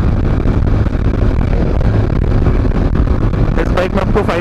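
A Bajaj Avenger 220 BS6 cruiser motorcycle with a five-speed gearbox runs at top speed on a road, a loud steady roar of engine and rushing wind filling the whole stretch.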